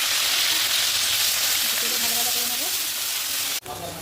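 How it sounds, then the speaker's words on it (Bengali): Onion paste hitting hot oil with whole garam masala spices for a chicken dish, giving a loud, dense, continuous sizzle close up, with a faint voice-like tone in the middle and a sharp utensil knock near the end. "এবার দিয়ে দেবো পেঁয়াজ বাটা"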